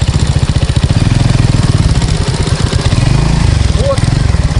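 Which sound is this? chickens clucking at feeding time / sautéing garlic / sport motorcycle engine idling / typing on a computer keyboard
sport motorcycle engine idling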